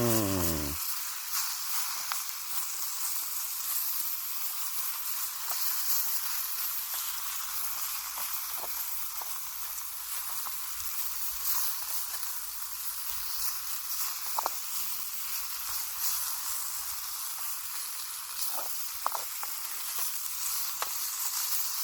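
Sausages frying at a mountain camp produce a constant, close, hissing sizzle that runs unbroken for a long stretch with occasional small pops, no talking over it.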